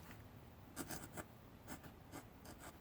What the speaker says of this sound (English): I'm going to write down the current mileage.